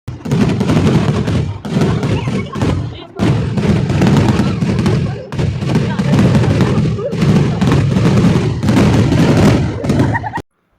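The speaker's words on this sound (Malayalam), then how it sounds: "ഞങ്ങൾ ആ പടക്കം പൊട്ടറൊക്കെ ഇങ്ങനെ കണ്ടിരുന്നു" Firecrackers burst in dense, crackling volleys at a church feast in Kerala, a loud and nearly continuous barrage with brief pauses, mixed with voices.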